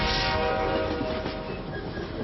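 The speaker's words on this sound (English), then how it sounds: "a bloody big train's coming" A big heavy freight-style train passes at a level crossing, a loud continuous rolling roar with a sustained horn-like tone that eases slightly as it goes by, with no speech.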